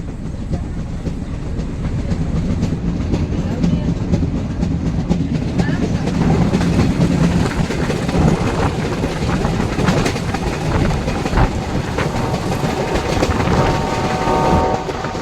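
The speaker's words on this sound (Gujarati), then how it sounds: "ટ્રેન નીકળી ગઈ છે આપણી" A Junagadh–Sasan Gir–Delvada metre-gauge train rolls along the rails with a constant loud rumble and steady clickety-clack, heard from on board, with faint voices now and then.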